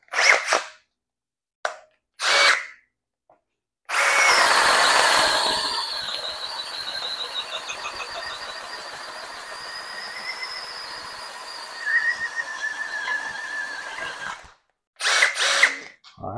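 A Metabo HPT sub compact cordless drill bores a hole through wood: short trigger blips, then a loud sustained whine and grinding as the bit cuts, ending with a few quick bursts, no talk.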